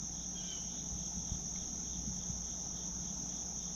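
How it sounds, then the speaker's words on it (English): Crickets chirp steadily through a quiet morning outdoors in North Carolina, a continuous high trilling held at an even level throughout, with no voices and only faint low rumble beneath. "We're gonna enjoy this morning with all the chirping birds, the crickets, just nature's sound."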